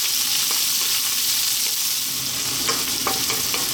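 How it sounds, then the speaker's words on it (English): Onion drops into a pan on lively heat and fries for a chicken eggplant curry. A dense, even hiss carries throughout, with a few soft stirring knocks and no talking. "next up we're going to drop in our onion"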